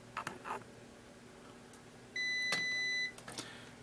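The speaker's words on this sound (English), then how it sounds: "got continuity up on the meter there" A multimeter gives a single steady continuity beep, a clear high tone held for about a second, during work on a Ranger, BT and Buick vehicle project, with a few light clicks and taps around it.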